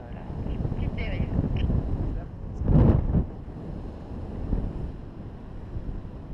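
Wind rushes past during a solo paragliding flight, a steady airy roar with one louder gust swelling midway, under someone speaking French.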